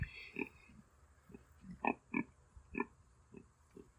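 A breeding boar on a farm, penned with a sow, gives a series of short, low grunts spaced irregularly over a few seconds, close and moderately loud, with no talking.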